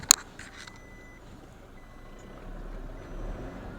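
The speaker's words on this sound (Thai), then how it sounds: "เสียงดังนะครับ รถเตือน" A 2017 Toyota Revo 2.8 single-cab 4x4 pickup, stuck in a hole and backing out, gives faint reversing warning beeps after a sharp click, with a low engine rumble swelling toward the end.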